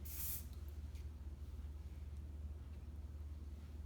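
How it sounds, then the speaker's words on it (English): A short hissing burst of finishing hair spray goes onto freshly blow-dried hair, with a low steady hum running underneath the whole time. "she's just using a little bit of finishing spray"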